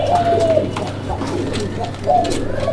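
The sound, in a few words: pigeons cooing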